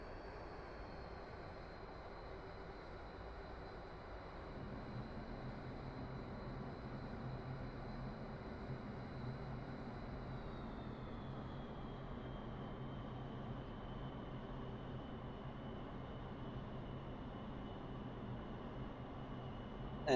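An MB-339 jet trainer's engine in DCS World drones steadily with a high whine that dips in pitch midway as the throttle is pulled back, a constant rumbling hum with no voices.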